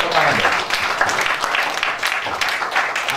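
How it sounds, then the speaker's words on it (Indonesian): A church congregation gives a round of applause for the Christmas committee chair, the clapping brisk and fairly loud. Speech and crowd voices mingle with the claps. "Kita beri tepuk tangan ya"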